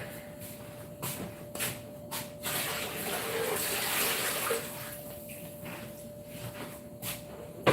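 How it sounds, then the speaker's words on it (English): Hot water pours out into a kitchen sink in a steady rushing gush that swells in the middle, alongside a few faint knocks and clicks, with no talking. "Get rid of this hot water."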